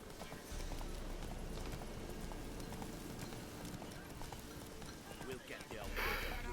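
Roach, Geralt's horse in The Witcher 3, gallops steadily along a road with a continuous clip-clop of hooves, close and fairly loud, while someone talks over it.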